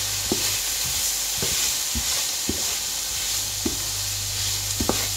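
A herb and chimichurri mixture is stirred in a hot pan, a continuous sizzle broken by regular knocks of a spoon or spatula against the pan, with a low steady hum underneath, close and clear.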